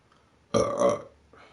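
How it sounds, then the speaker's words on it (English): A single loud, guttural burp lasts about half a second, close to the mic in a quiet room, followed by a faint murmur. "that cough and that burp try to come out at the same time a second ago"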